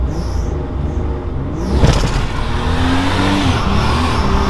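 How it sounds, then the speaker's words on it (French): A Nissan 300ZX's engine blips and revs through a heel-toe downshift, a loud close burst of rising engine noise with a tyre-like squeal, then steady revving that holds to the end. "Le talon sur le frein, la pointe sur l'accélérateur"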